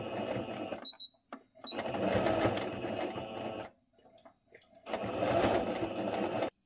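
Household sewing machine hemming the folded edge of a fitted bed sheet, running in three bursts of steady rapid stitching separated by short pauses.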